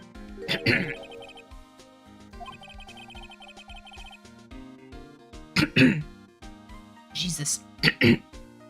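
A gamer chokes on Taco Bell food and breaks into harsh, repeated coughing fits, loud and close over game music. An exclamation comes between bursts, with a first fit early on and a cluster of coughs near the end.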